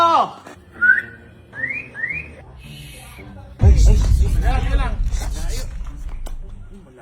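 A whistle is blown during a hide-and-seek game: several short rising chirps sound in the first seconds, then a loud burst of noisy commotion with voices follows.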